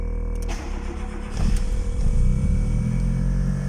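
A Tofaş Doğan car engine cranks briefly and catches, then settles into a steady close idle with a slight rise in revs, heard alone without talk.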